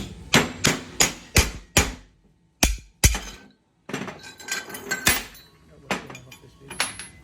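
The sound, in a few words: hammer tapping on oilfield X-Lock tool parts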